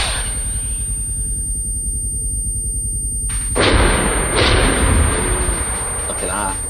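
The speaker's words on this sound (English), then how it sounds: "NLAW Fire." In the Arma 3 video game, an NLAW anti-tank launcher fires with a sudden heavy blast and a rumbling roar that follows, coming in after a quiet stretch and loud up close.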